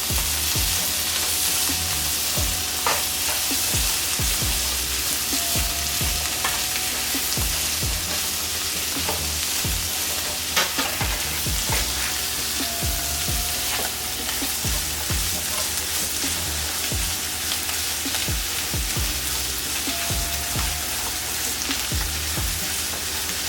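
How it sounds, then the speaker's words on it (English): Tomatoes fry steadily in a pan for birria, a continuous crackling sizzle with occasional scrapes and knocks of stirring, close and even throughout. "Now we cook the tomatoes."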